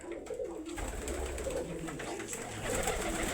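Soft, continuous cooing from several pigeons kept on a farm, a mix of local and foreign breeds including Mookhi, rising and falling nearby at a moderate, even level.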